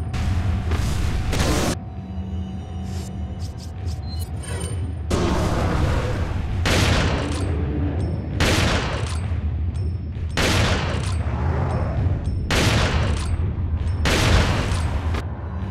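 Repeated bursts of gunfire in Resident Evil 4 on PS4, roughly ten loud volleys in an irregular rhythm with booming low end and short gaps between them, with no talk over them.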